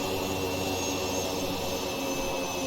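Steady, dense roar of a jet airliner's engines on reverse thrust in the X-Plane flight simulator, a constant loud broadband rush with a faint high whine, no talk over it.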